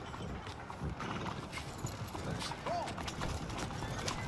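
Horse hooves clip-clop in the video game Red Dead Redemption 2, a soft, fairly distant patter buried under dense game ambience and background noise, with a brief whinny-like squeal partway through.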